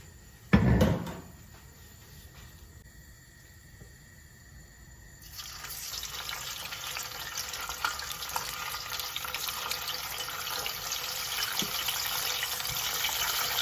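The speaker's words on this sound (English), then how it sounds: "I'm going to start frying my meat now." Meat for stew starts frying in hot oil in a pan: a sharp sizzle bursts in at the start, then after a quieter stretch a dense, steady crackling hiss builds and continues alone to the end.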